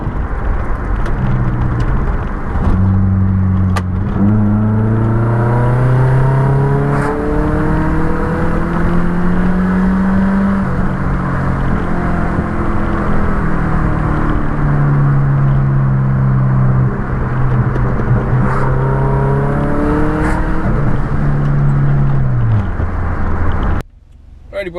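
Subaru Forester fitted with a Honda K24 engine cruising on the road, a loud steady engine drone from inside the car with rising and falling pitch through gear changes, continuous for the whole stretch before cutting off abruptly at the end.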